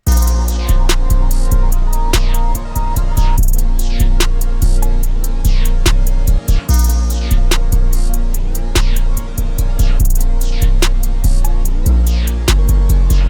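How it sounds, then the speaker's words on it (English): Dense trap beat with a distinctive 808 bass pattern, sliding low booms under crisp rapid hi-hats and sharp snares, loud and continuous with a few brief drop-outs. "this definitely is a unique 808 pattern"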